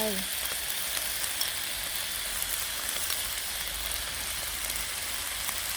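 Homemade Pad Thai sauce hits a pan of sizzling vermicelli noodle stir-fry, giving a close, loud, steady crackling hiss that runs unbroken throughout with no voices.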